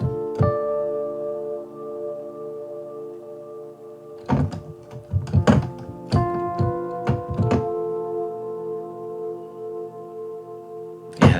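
A sustained tonal pad washed in long, floaty reverb from an R3-500 Analog Rooms plugin, steady harmonic tails ringing throughout while a cluster of sharp percussive thunks punctuates the middle, with no talk.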